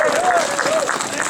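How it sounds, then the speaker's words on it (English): Short stretch of crowd applause at an outdoor Second Amendment rally for the last speaker, steady clapping under a voice speaking over it. "I want you to give her a real round of applause here."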